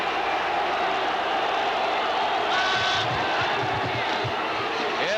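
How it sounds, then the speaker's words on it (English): Big stadium crowd at a 1980 Pittsburgh vs Florida State college football game, a steady loud roar of cheering with a swell in the middle, heard under broadcast commentary. "A big crowd."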